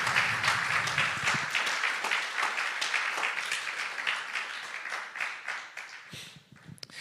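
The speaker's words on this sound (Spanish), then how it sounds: "¿Por qué no le dan aplauso al Señor esta" A church congregation applauds during a Spanish-language sermon about Jacob wrestling the angel, with dense, steady clapping sustained for about six seconds before it thins out near the end.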